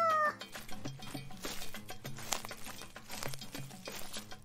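A cat named Saucisson meows once near the start, a short rising cry laid over continuous loud music that carries on throughout.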